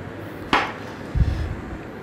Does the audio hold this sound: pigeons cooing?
no